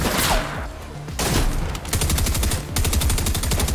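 Rapid bursts of gunfire from a Fortnite match crackle loud and close, with dense automatic volleys, brief pauses, and a sharp rhythmic run of shots near the end.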